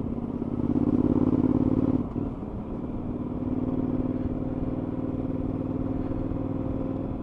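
A Suzuki V-Strom 1000 adventure motorcycle rides along a road, its engine droning steadily up close with a brief dip in pitch as the throttle changes.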